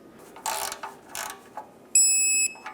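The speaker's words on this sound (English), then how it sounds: "I'm going to tighten it and torque it to 10 foot-pounds" A ratchet torque wrench clicks in two short bursts while tightening the oil drain plug on a 1997-2003 Ford F-150, followed by a brief high electronic beep, close and clear.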